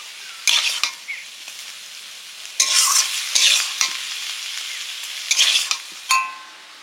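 Small mourala and puti fish chorchori curry stirred and fried in a pan, with intermittent scraping strokes of a spoon over a soft, steady sizzle and no talking.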